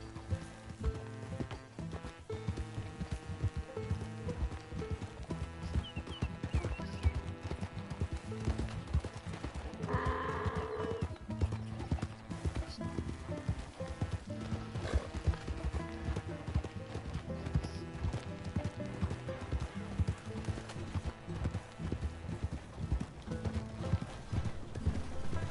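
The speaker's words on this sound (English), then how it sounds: "It's just a donkey, idiot." Donkey walking in Red Dead Redemption 2, steady clip-clop of hooves on the ground for about 25 seconds, carried along with game ambience and music underneath.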